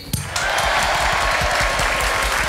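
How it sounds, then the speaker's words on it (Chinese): A studio audience at a Taiwanese TV variety show breaks into steady, loud applause, many hands clapping together in a dense, continuous wash that holds its level throughout, without anyone speaking over it. "掌声鼓励。"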